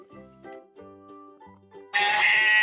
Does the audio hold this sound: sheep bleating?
yes